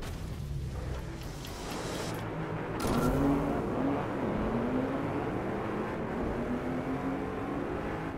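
Engine note of a car driven and revved in the DRIVECLUB VR racing game, a steady loud drone rising in pitch as it accelerates through the run, with no talk over it.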